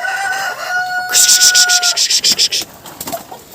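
Chickens on a small farm being shooed and herded into their coops, with a rapid run of bright clucking and squawking bursts close by, preceded by a brief sustained tone.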